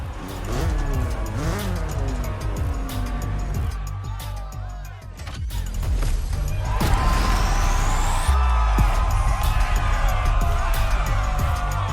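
A BMW in The Crew Motorfest drives the roads of Maui with engine drone rising and falling, a rising rev, tire noise and a crash-like thud, under a commentator's voice.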